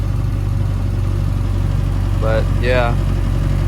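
A 1948 Willys Jeep CJ-2A engine idles steadily and close by with a low, tractor-like rumble after a choke start, running continuously while someone speaks briefly over it.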